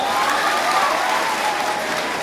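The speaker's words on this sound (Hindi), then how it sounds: "सबसे पहले अपने माँ और पिताजी के लिए जबरदस्त ताली बजाओ" An audience at a live career-counselling session in Jaynagar, Madhubani claps loudly for their parents, a dense, steady wash of applause close by with no pauses.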